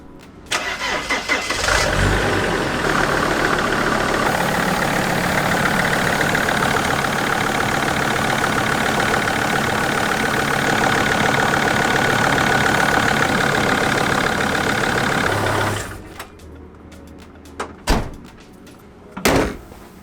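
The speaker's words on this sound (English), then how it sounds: "I'm going to start up the Sprinter" A Mercedes Sprinter van engine cranks and starts, then idles steadily and loudly for several seconds before cutting off, followed by a few door thumps and clatter.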